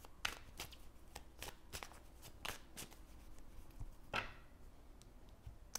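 Tarot cards are shuffled by hand in a quiet room, a series of soft, quick riffling bursts repeating at an uneven pace, faint and close, with no talking.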